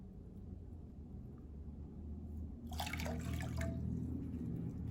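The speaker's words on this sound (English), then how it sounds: "So I'm just gonna pour a cup of water in here." A cup of water pours into a pan for making lemonade, a brief splashy burst over a low background rumble, fairly quiet and close.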